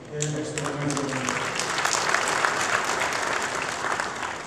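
An audience at a Korean Christian church gathering claps to welcome guests being introduced. The applause is steady and moderately loud, with a few voices audible underneath.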